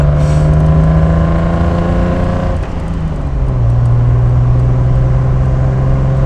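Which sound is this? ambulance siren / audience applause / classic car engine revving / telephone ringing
classic car engine revving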